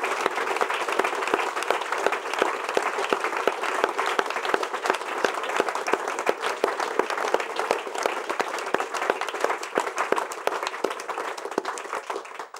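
A lecture-hall audience at a talk on soldiers' traumas applauds the panellists, sustained dense clapping from many hands that stays steady and loud throughout.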